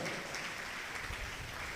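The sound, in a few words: audience clapping loudly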